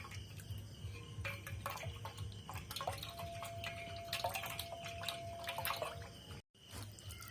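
Bael fruit pulp drips and trickles through a sieve, a steady run of small wet drops with a low hum underneath, close and fairly quiet, with a brief cut to silence near the end.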